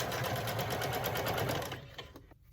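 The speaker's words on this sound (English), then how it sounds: "now I'm going to sew back and forth and back and forth" A sewing machine stitches back and forth across the elastic casing of pyjama pants, a steady fast close rattle that slows and stops near the end.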